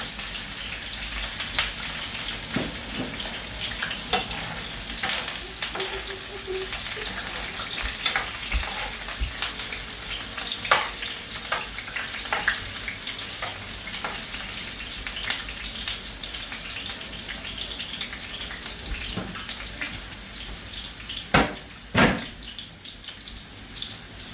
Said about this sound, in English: If I fry anything, I use the chipped one.